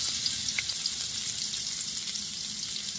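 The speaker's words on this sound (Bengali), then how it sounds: "পেঁয়াজ কুচিটা দিয়ে দিচ্ছি, তেল গরম হয়ে গেছে।" Chopped onion sizzles in hot oil in a pan, a steady, fairly quiet crackle and hiss running continuously with small pops, no voices over it.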